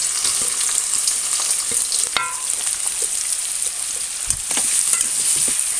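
Chopped onion sizzles in hot oil for a Thattukada-style chicken kothu porotta, with a steady loud crackle and occasional clinks and scrapes from stirring, and no voices.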